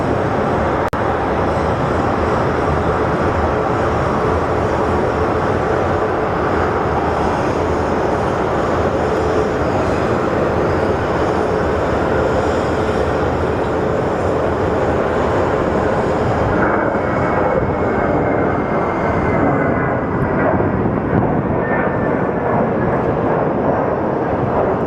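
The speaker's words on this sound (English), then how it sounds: "And Spirit Airlines, which we watched to land, is now getting ready to depart as well." A Spirit Airlines plane taking off at Sky Harbor produces a continuous, even jet roar that stays loud for the whole stretch, with a rising high whine appearing toward the end as it climbs away.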